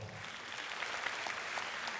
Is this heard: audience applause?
yes